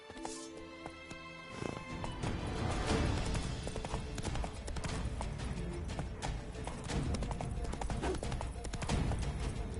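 Horse hooves galloping in The Witcher video game, a steady rapid clip-clop rhythm that starts after a quieter opening, continuous and fairly loud beneath game ambience.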